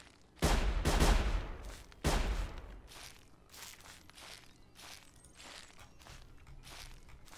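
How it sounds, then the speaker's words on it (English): Gunfire in the stealth survival video game Sir, You Are Being Hunted: two loud, close reports with heavy low-end rumble, then quieter scattered crackles and footstep-like crunches fading into the background. "They're shooting at a rabbit?"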